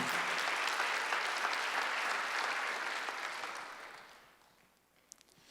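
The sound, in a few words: church congregation applauding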